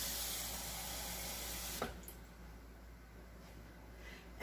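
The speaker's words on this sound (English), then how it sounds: "I am going to add some water." Water poured from a tap into pizza crust batter, a steady broad rushing hiss that cuts off sharply, leaving a quiet kitchen background.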